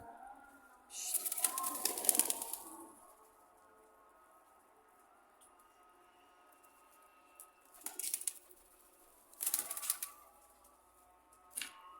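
Homing pigeons coo softly in a loft, low murmuring calls under quiet background, broken by a few loud bursts of wing flapping and rustling near the start and again toward the end.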